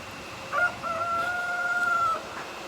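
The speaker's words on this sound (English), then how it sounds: "The young rooster out there strutting the stuff." A young rooster crows once, a drawn-out call over a faint outdoor background on an overcast morning.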